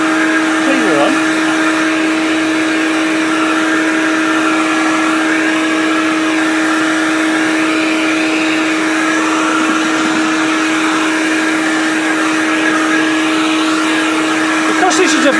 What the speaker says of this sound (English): Because this is a vacuum cleaner as well, it does quite well.